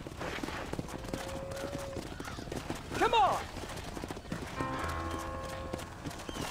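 Horse hooves clip-clop steadily on the ground in the Red Dead Redemption video game, a trotting rhythm running under brief speech, with a short whinny midway and music swelling near the end.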